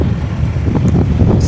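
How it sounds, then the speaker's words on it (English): Strong wind blows steadily outdoors at a house-buying site in Jamaica, a dense low rumble of gusts buffeting the microphone throughout. "It's very windy today"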